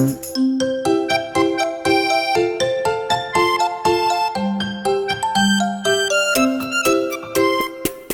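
Golden bells ring in a quick, bright melodic run of struck tones, loud and continuous with no voices.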